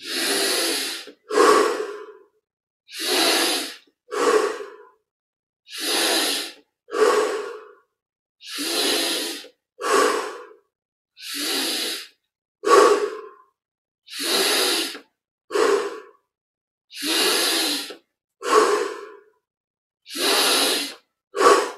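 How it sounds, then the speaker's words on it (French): Deep yogic breathing exercise with slow, rhythmic inhale and exhale pairs, about sixteen breath sounds at steady intervals, close and clear, with no talk over them. "on augmente progressivement l'amplitude des respirations."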